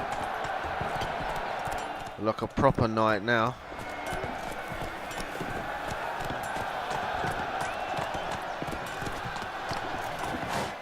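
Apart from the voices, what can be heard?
horse Roach galloping in video game The Witcher 3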